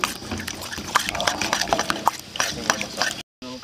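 Masala, green chilli paste and salt are mixed by hand, giving a steady run of wet, squelching and slapping sounds close up. A brief gap of silence falls near the end.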